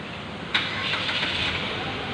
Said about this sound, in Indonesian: Pertama, kita hidupkan mesin.